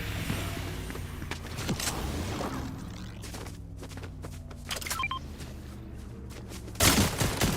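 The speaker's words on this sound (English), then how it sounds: "Oh, somebody's shooting at me." Gunfire aimed at the player in a video game: sharp, scattered shots crack amid continuous engine-like game noise, with a louder burst near the end.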